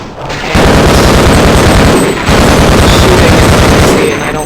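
Loud, dense automatic gunfire rattles nonstop in the Half-Life video game, a harsh rapid burst that briefly dips twice before resuming, dominating the foreground.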